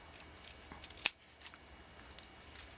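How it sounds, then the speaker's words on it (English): Scissors snip off excess thread from soutache beadwork, one crisp close cut standing alone in a quiet room, with faint handling rustles before and after. "now I'm going to cut off the excessive thread"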